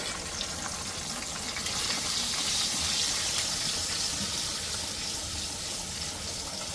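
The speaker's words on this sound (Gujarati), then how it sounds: "આપણે આ ટામેટાની પેસ્ટ નાખી દઈશું" Tomato puree goes into a hot pan of cumin for dum aloo, giving a continuous hissing, gushing sizzle that stays loud and steady throughout.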